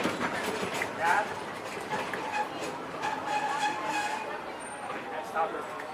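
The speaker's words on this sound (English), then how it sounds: "please remain seated until the train comes to a complete stop" A Disney theme park train rolls steadily along its rails with a continuous rumble and faint clatter, while a voice speaks over the ride noise.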